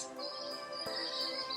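Birds chirping outdoors in the background, a steady high thin twittering that runs nearly the whole moment, faint and distant, with no one speaking.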